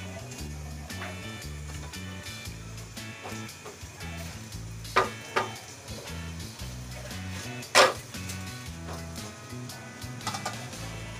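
Rice flour chila frying on a nonstick pan, a soft steady sizzle running throughout with intermittent scraping and clicking from a utensil, including one sharper clatter midway, all heard under quiet background sound.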